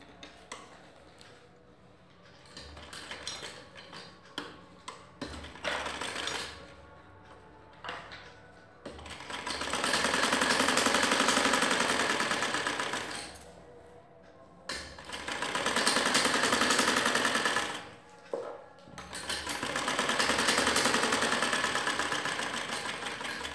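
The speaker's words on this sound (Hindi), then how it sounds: "इसको मैं ये सिलाई लगाऊंगी इधर सीधे में" A sewing machine stitching a straight seam on an old chunni runs in steady whirring bursts of several seconds each, separated by short pauses, loud and close with no talking.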